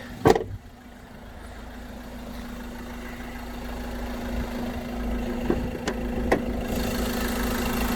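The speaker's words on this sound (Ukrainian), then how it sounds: "Мотор працює рівно, стабільно, справно." A Peugeot Boxer van engine idles steadily at moderate volume, a low even hum with a faint periodic ticking, briefly interrupted by a couple of sharp clicks.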